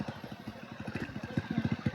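A motorcycle engine idles close by with a quick, even putter of regular low pulses and a slight mechanical clatter, steady and moderately quiet throughout.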